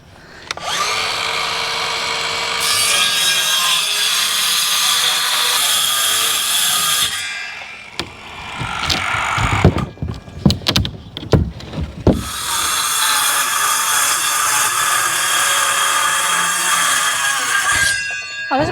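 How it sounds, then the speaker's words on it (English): Power saw cutting wooden boards outdoors during backyard hillside landscaping: a long, steady, loud whine, then a stretch of knocks and handling clatter, then another long sustained cut. "I gotta cut some more boards."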